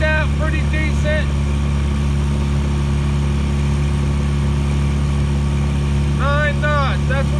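Fourteen-foot tri-hull boat running planed out at about nine knots on a Honda 9.9 outboard, its steady engine drone loud and continuous throughout, with brief bursts of high whining tones near the start and end.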